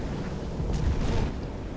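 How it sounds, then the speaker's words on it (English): A torpedo strikes a ship in the WWII submarine game Silent Hunter: Wolves of the Pacific, a deep, muffled explosion swelling into a rolling low rumble for about a second over steady background drone. "Torpedo impact."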